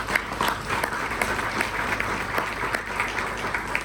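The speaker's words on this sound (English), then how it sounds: "we can offer them a big welcome with claps" An audience at a talk event applauds to welcome two speakers, a sustained patter of many hands clapping at even volume without voices.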